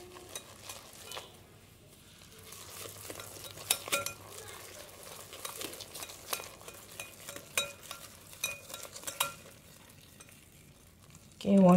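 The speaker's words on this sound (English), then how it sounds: "Before this mix, we're going to mix it into the dry ingredients." Egg being stirred into the dry ingredients for cranberry scones: soft, irregular scraping and light tapping of a utensil in a bowl, fairly faint, ending with a louder knock.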